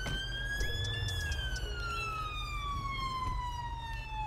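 Police car siren from a British patrol car, a BMW M5, in the video game GTA 5 with a police mod, wailing loud and steady with rising and falling tones over a continuous engine rumble.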